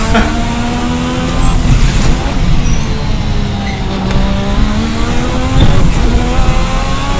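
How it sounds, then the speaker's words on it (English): A Formula RSS 1986 V6 race car in Assetto Corsa screams at high revs, its loud engine climbing and bouncing off the rev limiter in sharp repeated cuts, with brief gear changes between pulls. "We're gonna hit the rev limiter there."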